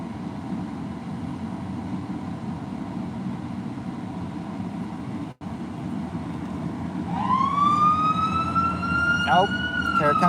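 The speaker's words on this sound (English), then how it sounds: "Here comes the ambulance." An ambulance siren passes during a night drive, heard from inside a car: steady road rumble first, then a wailing siren rises in the last few seconds and grows louder as it approaches.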